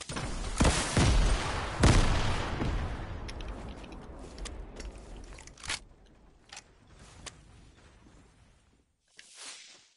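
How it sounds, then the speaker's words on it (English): Video-game grenade explosions: several heavy booming blasts burst close together early on, followed by scattered sharper cracks and debris hits that thin out toward a brief pause and a final whooshing rumble. "how many nades do these guys have?"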